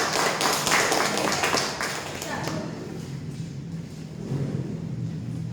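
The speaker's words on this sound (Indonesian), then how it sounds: "Beri aplaus buat kelompok 3" A classroom gives group 3 a round of applause: a burst of dense clapping from several people that is loud at first, then thins and fades over a few seconds.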